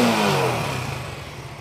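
A 2022 Road Prince 70 motorcycle in original condition runs close by, a brief engine rev that fades and settles toward a low idle within under two seconds, with no voices.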